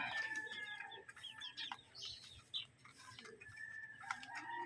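Chickens cluck and a rooster crows repeatedly at feeding time, a busy overlapping flock of calls from nearby, with no talking.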